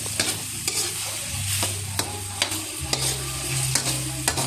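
Bottle gourd pieces stir-fry in a pan with a steady sizzle, punctuated by regular sharp scrapes and taps of a spatula against the metal, close and fairly loud.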